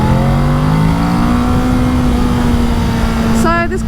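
A 2020 Kawasaki Ninja 650 motorcycle engine revs high in a steady sustained drone with rising pitch, loud and close under wind noise, with a brief change near the end.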